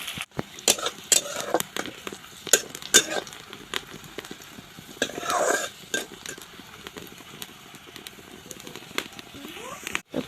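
Onions fry in a pan until reddish, ahead of drumstick flowers going in, with a faint sizzle under repeated sharp clinks and scrapes of a utensil stirring against the pan.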